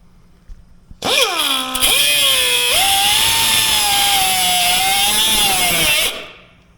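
A loud power tool bites into steel at a weld on a cage, rising with a sharp whine that settles into a steady, close grinding cut lasting several seconds before it winds down.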